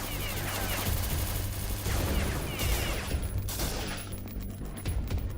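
Rapid turret gunfire rattles continuously in a video game firefight, dense bursts of automatic fire with crashing impacts filling the whole stretch without pause.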